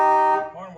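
A car horn on a 1964 Studebaker Avanti sounds one sustained, bright, tonal honk that fades out after under half a second, with faint residual tone afterward.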